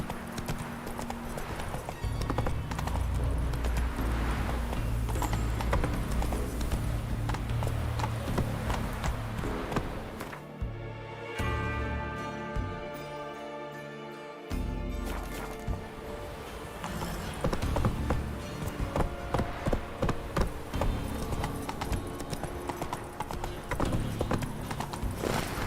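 Horse hooves clip-clop steadily in The Witcher 3 as the mount trots along, a close rhythmic clatter with a brief quieter gap midway and an occasional whinny.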